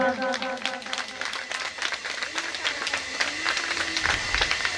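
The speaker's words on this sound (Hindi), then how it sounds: "दोनों हाथ की ताली जोरदार" An audience at a Hindu devotional jagran claps with both hands in quick, sharp bursts while an amplified voice speaks over it with musical tones, the clapping thickening toward the end.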